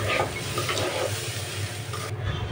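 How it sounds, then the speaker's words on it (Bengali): Rice frying in a pan with a little oil and salt for mutton biryani, a steady close sizzle with light stirring scrapes throughout. "কিছুটা সময় নিয়ে চালটা আমি ভেজে নেব।"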